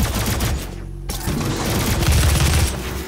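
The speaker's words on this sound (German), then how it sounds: "wir holen mal dieses Sturmgewehr raus" An assault rifle fires in the video game Doom on PS4, a dense, loud burst of rapid automatic shots that briefly pauses for a moment and then roars on continuously.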